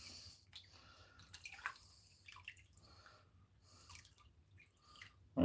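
Water from a snuffer bottle sloshes and splashes in a gold pan, a series of soft wet drips and squishes at close range with a sharp burst at the end.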